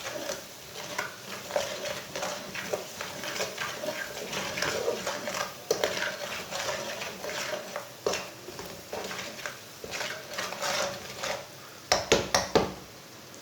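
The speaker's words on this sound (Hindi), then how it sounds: "1 मिनट भून लेंगे मसालों को। मसालों को बिल्कुल भी जलने नहीं देना।" Spices being stirred and roasted in a pan on a stove over lowered heat, a steady close scraping and stirring with light sizzling and occasional clinks of a utensil against the metal pan.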